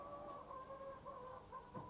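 Free-range hens cluck softly in short repeated calls, a few birds close by over a low barnyard hum, faint overall with no talking.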